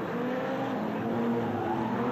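Banger racing cars slide and skid around a slippery oval track at the Wimbledon World Final, a steady roar of engines and tyre scrub sounding loud and continuous without a break.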